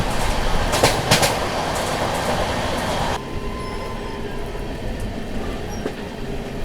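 Aboard the Tamil Nadu Superfast Express while it overtakes the Malwa Express, a loud continuous rush of rail noise and wheel roar carries on, with the passing train's din cutting off abruptly midway.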